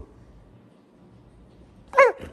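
A dog reacts to being barked at by its owner, letting out a single sharp, close bark after a stretch of quiet room hum.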